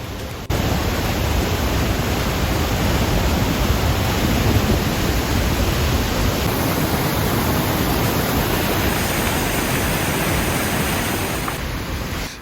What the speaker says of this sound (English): look at the force and the energy with which the water is falling